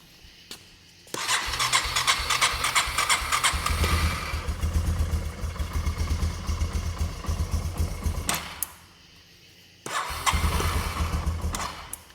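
A cheap four-wheeler ATV engine fires up and idles steadily at close range, then cuts out briefly and starts again, settling back into its rough, even idle.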